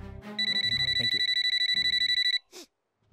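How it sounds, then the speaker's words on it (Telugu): Mobile phone ringing in a rapid, steady electronic trill lasting about two seconds, loud and close, then stopping abruptly, followed by a brief sound afterward. "నీ ఫోన్ రింగ్ అవుతుంది."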